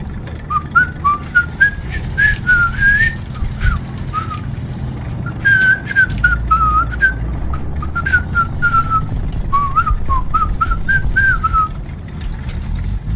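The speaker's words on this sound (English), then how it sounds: "I can't whistle very well." Someone whistles a wavering, uneven tune with their lips for over ten seconds, the notes rising and falling in short phrases over a steady low engine-like rumble from a tank game.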